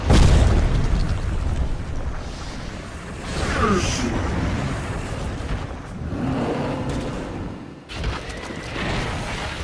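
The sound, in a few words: Dota 2 video game tower under attack, explosions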